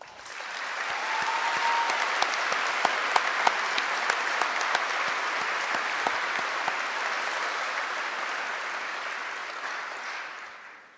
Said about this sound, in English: can we please give them all a round of applause?